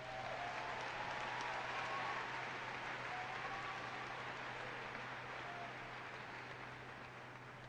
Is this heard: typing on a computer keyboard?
no